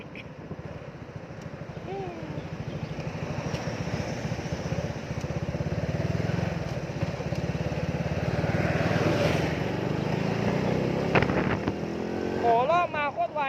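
Honda 110i motorcycle with a newly changed clutch accelerating hard, its engine droning and climbing steadily in pitch and loudness, with someone talking over it.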